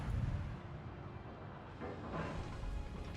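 Naval guns firing in World of Warships, a tier 3 battle, heard as a low, distant rumbling boom that swells and rolls on for a few seconds with no talking.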